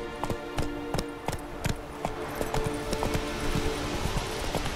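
Roach, Geralt's horse in the video game The Witcher 3, trots with a steady, close clip-clop of hooves in an even repeating rhythm over a faint musical background.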